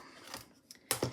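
A blade cuts quilting fabric along a ruler for maple leaf block pieces, making a few soft, brief scraping swishes close by that end in a louder slicing stroke.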